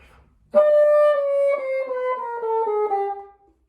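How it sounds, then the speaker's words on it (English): A bassoon steps downward note by note in a slow, smooth descending chromatic scale, played alone and close, fading at the end. "Just a descending chromatic scale"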